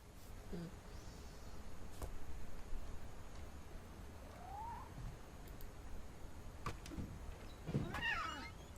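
Faint cat meows inside the video game What Remains of Edith Finch, a few short calls over a quiet ambient hum, with a brighter cry near the end.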